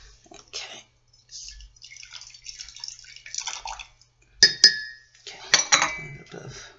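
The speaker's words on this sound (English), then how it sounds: "let's rinse out my cup and the strainer" A tea cup and strainer rinsed under running water, splashing and trickling with several bright clinks of ceramic and metal, close by and intermittent.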